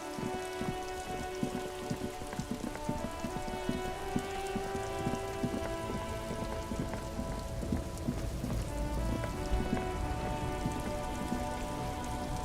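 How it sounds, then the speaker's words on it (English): Steady rain patters on surfaces in the Disco Elysium video game world, a dense, even hiss with dripping detail and no let-up, heard alone at moderate volume. "Stuck in the rain in a traffic."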